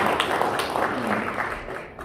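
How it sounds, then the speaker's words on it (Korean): An audience applauds at the 2nd Daedong Traditional Culture Awards ceremony. A continuous wash of many hands clapping holds at moderate loudness, then tapers slightly toward the end. "큰 박수 한번 주세요"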